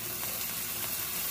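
Onion sizzling in a hot pan with beans and softened mild güero chiles, a steady, faint frying hiss with no talk over it.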